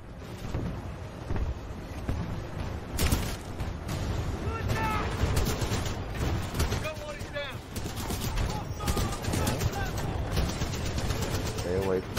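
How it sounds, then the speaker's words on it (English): Gunfire from mounted guns crackles in bursts through the Titanfall 2 battlefield, a steady stream of shots layered over wind and rumbling background noise, with occasional louder blasts. "we can't move up while those guns are firing"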